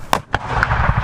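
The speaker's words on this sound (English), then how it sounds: "Gun one, prepare. Gun one, fire." Artillery cannons fire at a Civil War reenactment, giving a few sharp, booming reports in quick succession with rumbling echoes in between.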